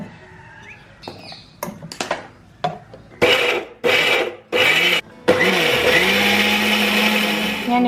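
An electric mixer grinding onion, green chillies and mint leaves runs in several short pulses with clicks and handling noises between them, then settles into a long, loud continuous whir.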